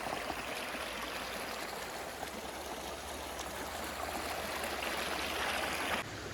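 Steady rushing stream water flowing continuously, a broad even wash of sound with gentle trickles, close by and fairly loud throughout.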